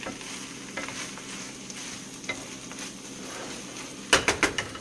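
Chorizo sizzles and fries in a pan while being stirred for tinga, a steady low hiss broken by a quick burst of scraping and clatter near the end, close and fairly quiet with no talking.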